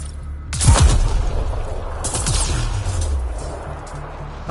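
Booming explosions from rigged lightning rods in the Mass Effect Andromeda video game: a sharp, heavy blast followed by a second burst, each trailing off in a low rumble.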